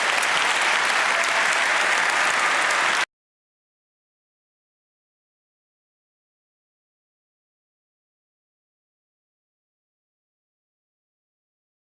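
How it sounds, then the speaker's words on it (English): Audience applause after a talk on terror, whistleblowers and surveillance, a dense burst of clapping lasting about three seconds, then silence. "So huge applause again"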